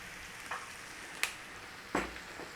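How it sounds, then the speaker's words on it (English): Apples cook in a pan with leek and onion for a sausage and apple pie, giving a soft, steady background sizzle broken by a few brief sharp clatters or stirring scrapes. "Start to cook your apples in there with your leek and onion."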